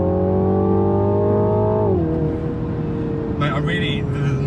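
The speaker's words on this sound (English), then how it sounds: "the noise from this car, it sounds so good" A 2020 Mini Clubman JCW car engine, about 300 bhp, holds a steady loud tone, then the pitch drops as it settles, with a few brief scraping noises near the end.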